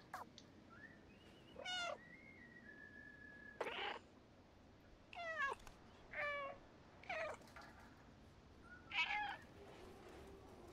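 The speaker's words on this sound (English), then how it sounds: "That small cat inside?" A cat meows repeatedly at a door, a series of short, fairly faint mews and chirps spaced a second or two apart against a quiet background.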